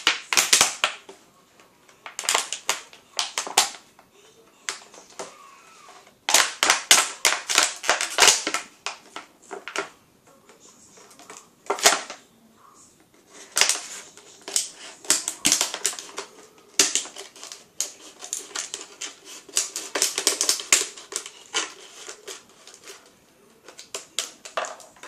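A plastic bottle being slit open on its side with a blade, bursts of sharp crackling, crunching clicks in irregular clusters separated by brief pauses, close and dry, without talking.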